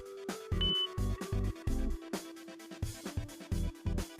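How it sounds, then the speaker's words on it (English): A Lexus car audio system gives a short electronic beep while a preset button is held, set among a run of rhythmic pulsing tones with no speech. "Select and hold the preset button you'd like to reprogram until you hear a beep"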